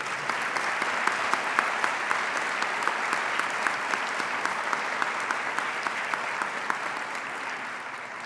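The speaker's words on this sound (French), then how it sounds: "S'il vous plaît, veuillez l'applaudir." Sustained applause from an audience at a university optometry school graduation ceremony, steady dense clapping throughout without talk.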